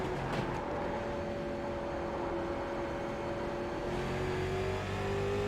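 A late model race car roars around Concord Speedway in iRacing, its engine droning loud and steady at high revs with a slowly rising pitch.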